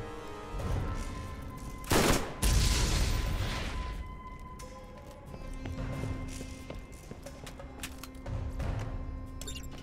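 Bursts of gunfire and explosions in the Borderlands video game, with a loud blast near the start followed by scattered shots and rumbling over about ten seconds.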